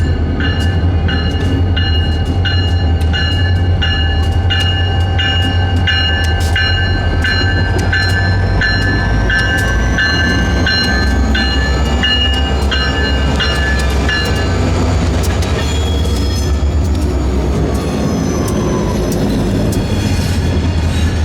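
A grey Alstom SD40-3 locomotive on the Aberdeen Carolina and Western rolls along the rails with a loud, steady rumble and squealing, ringing wheel tones, heard close for the full length.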